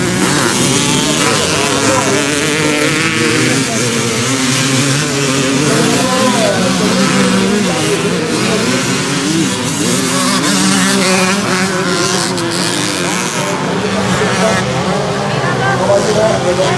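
Vintage 1980s motocross motorcycles race on a dirt track, engines droning and revving loudly and continuously at a distance, with crowd noise and voices mixed in.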